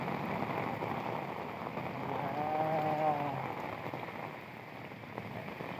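Heavy rain pours onto a flooded street in Dhaka, a dense, steady hiss of drops striking water that holds at the same level throughout, with no voices.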